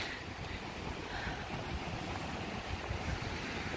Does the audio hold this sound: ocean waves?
yes